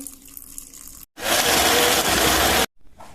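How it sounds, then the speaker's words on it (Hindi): Water pours steadily for about a second and a half into raw mango chutney ahead of blending, a loud broadband splash that stops abruptly, with quieter kitchen sounds before and after. "अब थोड़ा सा हम पानी डाल के और इसको ब्लेंड कर लेंगे"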